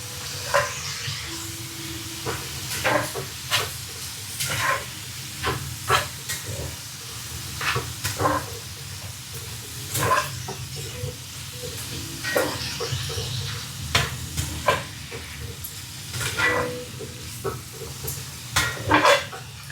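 Pepper steak simmering in a pan gives off a steady sizzle and bubbling hiss, broken by repeated clinks and scrapes of stirring, heard up close with no one talking.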